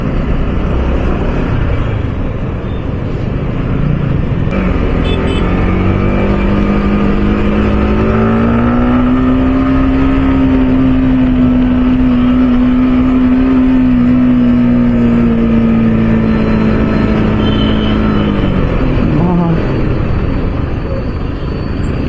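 A motorbike with its stock, unmodified exhaust runs steadily and loudly close by, with a humming engine note that rises and holds before dropping away.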